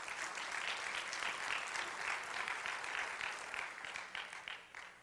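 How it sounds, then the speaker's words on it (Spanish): A church congregation claps during a Sunday sermon, producing dense, steady applause from many hands that fills the space and fades slightly toward the end, with no voices over it. "Den un aplauso a Él porque Él se lo merece."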